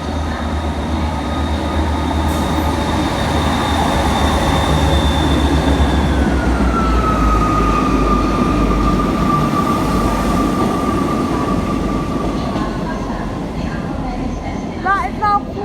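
A Class 158 diesel multiple unit, unit 158958, pulls out of a station at Newport, its engine drone rising steadily with a long tonal whine and wheel squeal; close and loud, with a station announcement and voices in the background.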